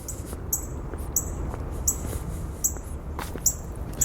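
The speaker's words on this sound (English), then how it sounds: "a little cardinal. Hear him tweeting?" A cardinal outdoors in January tweets in repeated high chips at an even rhythm, about six over a few seconds, clear against a low rumbling background.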